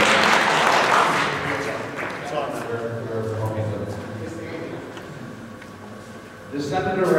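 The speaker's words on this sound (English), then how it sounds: "Give them a round of applause." A room at a community meeting applauds a group of office staff, a moderate clapping wash that fades under ongoing chatter and swells again briefly at the end.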